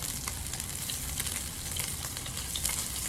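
Sausage sizzles in a hot, uncoated stainless steel pan, a steady close crackle of frying fat holding an even level throughout with no talking.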